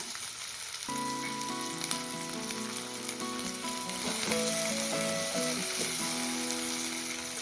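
Garlic and green chillies frying in a pan for a village-style dry fish curry make a steady close sizzle with light stirring scrapes, while faint background music with sustained tones plays underneath.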